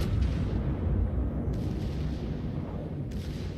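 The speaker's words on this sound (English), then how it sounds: "Shots out on the Tirpitz" The battleship Tirpitz firing its 380mm main guns in a naval warship game: heavy, booming salvo reports with rolling rumble, loud and close, with a second sharp report partway through.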